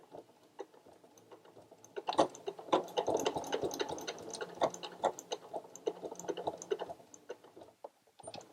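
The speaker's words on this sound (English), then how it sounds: "I'm going to continue like this all the way around the edge of the lanyard until I get back to this starting position" A sewing machine stitches around the edge of a fabric lanyard, a dense run of quick mechanical ticking and clicking that starts after a quiet moment and carries on steadily at close range.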